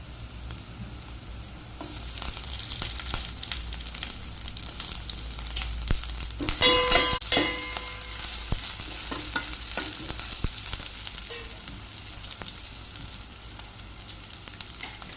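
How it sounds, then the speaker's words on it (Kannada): Onions fry in a pan with ginger and chilli added, a continuous close sizzle with frequent stirring scrapes and a brief louder burst as ingredients hit the hot oil midway. "ನೋಡಿ ಇವಾಗ ನೀರುಳ್ಳಿ ಫ್ರೈ ಆಗ್ತಾ ಬಂತು ಅದಕ್ಕೆ ಶುಂಠಿ ಮತ್ತು ಮೆಣಸನ್ನು ಹಾಕ್ತೇನೆ"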